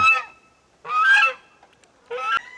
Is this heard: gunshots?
no